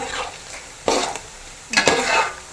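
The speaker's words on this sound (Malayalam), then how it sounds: "നമ്മുടെ ബീഫ് ഇവിടെ നല്ലപോലെ ഫ്രൈ ആയിട്ടുണ്ട്" Beef pieces frying in oil for a Kerala-style beef pickle, a constant bubbling sizzle with two bursts of spoon scraping and clinking against the pan, close and fairly loud, no voices.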